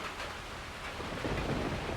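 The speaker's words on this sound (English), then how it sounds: "It actually sounds like it's hailing." Rain and hail pelt down in the Farming Simulator 25 video game as a dense, steady, rumbling wash of drumming impacts, loud and continuous throughout.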